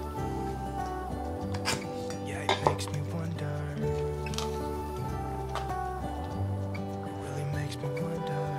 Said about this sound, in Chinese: 把豆腐切一半。